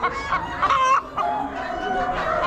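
Chickens and a big rooster cluck and squawk at an Amish livestock auction, overlapping calls close by and fairly loud, with a crowing note amid the constant flock noise.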